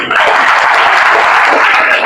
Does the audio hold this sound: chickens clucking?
no